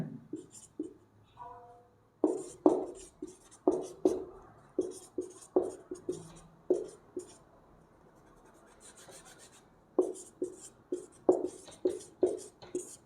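Chalk or marker strokes on a board during a chemistry lesson, a close series of short rhythmic scratches in bursts separated by brief pauses, with a faint voice in the background.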